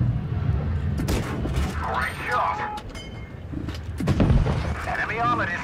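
Tank cannon shots in World of Tanks Blitz, several heavy booming reports with rumbling echoes amid battle noise, with someone talking over them.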